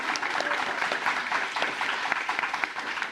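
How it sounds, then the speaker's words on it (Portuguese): A crowd applauds at a dossier launch event for 'Memórias de Rua', giving a dense, continuous wash of many hands clapping at a steady level throughout. "Queria uma salva de palmas"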